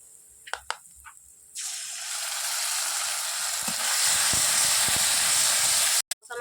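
Ginger paste hits hot oil with fried onion, garlic and chili paste in a pan for chicken curry, bursting into a loud, sustained hiss and sizzle after a few faint kitchen clinks.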